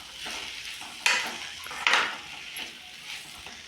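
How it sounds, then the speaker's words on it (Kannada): Chopped tomato and onion stir-fry in a pan, with a soft sizzle under two sharp scrapes of a utensil against the pan. The sound is close and moderately loud. "ಟೊಮಾಟೊ ಹಾಗೂ ಈರುಳ್ಳಿನ ಹಾಕಿದ ನಂತರ ನಾವಿದನ್ನ 1 ನಿಮಿಷ ಚೆನ್ನಾಗಿ ಫ್ರೈ ಮಾಡಬೇಕು"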